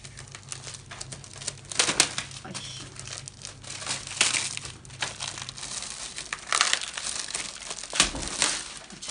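Packaging around a grilled oven tray is unwrapped, with close, continuous crinkling and rustling of plastic and paper in uneven bursts.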